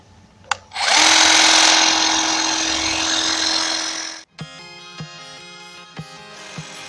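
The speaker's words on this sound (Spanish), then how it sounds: "poder encender nuestra podadora" A WORKPRO 20V cordless hedge trimmer starts with a click and then runs with a loud, steady electric buzz for about three seconds. It winds down and stops, and a few sharp clicks and knocks follow.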